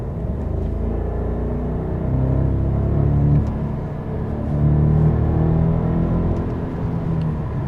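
A 2027 Mercedes S-Class with a V8 engine accelerates on a country road, heard from inside the cabin as a steady, muffled engine drone and road rumble that swells and eases in waves, with no talking.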